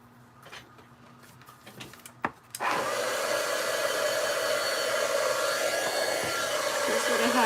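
A heat tool blasts on after a few soft handling clicks, then keeps up a steady, close whooshing hum while drying paint splatters on a craft picture.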